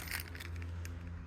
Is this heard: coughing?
no